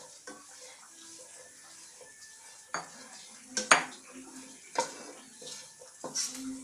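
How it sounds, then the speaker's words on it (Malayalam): Dates stirred in a hot pan until they melt down, heard as quiet scraping and scattered knocks of a utensil on the pan, with a couple of louder clanks, close but soft overall. "പാൻ ചൂടാക്കി ഇതിലേക്ക് എടുത്ത് വെച്ചിരിക്കുന്ന ഡേറ്റ്സ് ഇട്ട് കൊടുക്കാം. ഇനി ഇതൊന്ന് മെൽറ്റായി വരുന്നത് വരെ നമുക്ക് നന്നായി ഇളക്കി കൊടുക്കാം."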